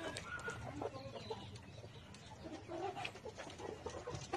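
Layer hens cluck on a poultry farm, a faint, steady murmur of many birds with scattered clucks and squawks rising and falling, no voices.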